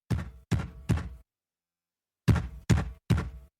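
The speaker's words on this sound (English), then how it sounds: "It's supposedly that's my gavel, my fist on my desk" A fist thumps a desk like a gavel, three heavy knocks, a pause, then three more, close and loud with no talking.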